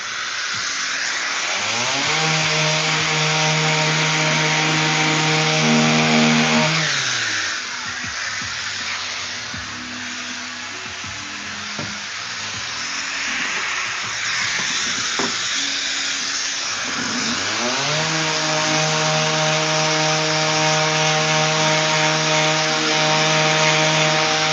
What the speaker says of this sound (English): Give it a nice quick little sand,